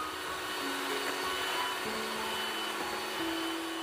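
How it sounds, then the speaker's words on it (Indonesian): An electric hand mixer whips cream together with chocolate spread, giving a steady, loud motor whine that holds evenly for the whole stretch, with a few slight shifts in pitch and nobody speaking. "Mixer kembali hingga tercampur rata dan mengembang sempurna."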